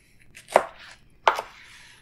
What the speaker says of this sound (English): Now we can even cut these chunks down a little bit.